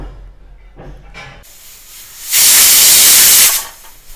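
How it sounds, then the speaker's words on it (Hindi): A pressure cooker on high flame lets out a loud steam whistle, one sustained hissing blast lasting about a second after a few faint clicks and rustles, close by with no talking. "हाई फ्लेम पे मैं इसे एक सीटी लगाऊंगी"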